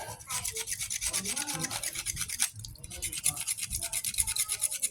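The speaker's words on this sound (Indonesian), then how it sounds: "Nah jadi kita butuh alat yang ekstrim nih, yaitu gergaji besi. Sama air mengalir pelan." A hacksaw peels a black opal stone under slowly running water, heard as a steady, rapid rasping scrape that stops briefly and then resumes, close and continuous.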